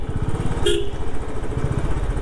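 A motorbike rides through heavy traffic on the Palaspe Phata to Sangameshwar road in Konkan, its engine a steady close drone throughout, with a short car horn honk sounding nearby partway through.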